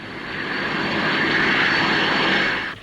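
Fairey Ultra Light two-seater runabout at Farnborough, its engine roaring in a loud, steady drone as it takes off, swelling in and then cutting off sharply.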